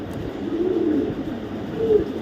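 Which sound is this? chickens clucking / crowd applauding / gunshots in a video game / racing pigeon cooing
racing pigeon cooing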